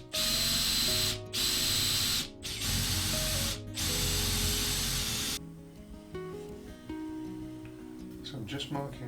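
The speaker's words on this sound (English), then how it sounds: "I'll just drill all the way through with a Forstner bit" A power drill with a Forstner bit bores through a guitar body, loud and close in four long runs separated by brief stops, then falls to quieter handling and clatter.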